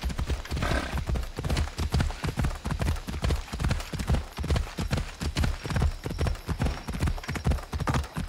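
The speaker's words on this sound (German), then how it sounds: "Ah, ich hol das Pferdchen kurz." Horse hooves galloping in the Assassin's Creed Odyssey video game: a rapid, steady clip-clop rhythm of loud close hoofbeats running throughout, with a brief whinny near the start.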